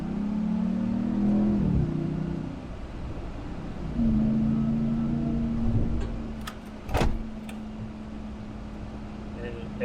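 A Ram TRX pickup truck off-road rumbles and revs, its engine tone rising and falling in two surges, with a sharp knock or bump near the end and a voice talking over the engine.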